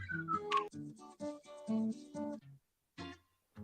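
A playful whistled melody carries a bouncy music track, phrasing in short bursts with brief pauses between them, clear and upfront with no talk.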